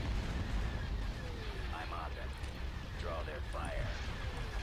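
Cannon fire in the space strategy game Star Wars Empire at War: low booming blasts rumbling under a continuous battle din, with voiced unit lines spoken over them.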